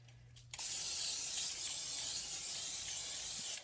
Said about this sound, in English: I'll take some olive oil spray